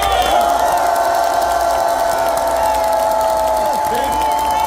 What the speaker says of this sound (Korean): 이재명에게 큰 박수와 함성을 부탁드립니다.